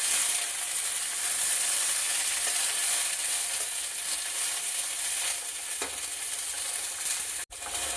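Potato and drumstick (moringa) pieces frying in oil make a steady, dense sizzle throughout, with a few faint scrapes of stirring and one sharp brief click near the end.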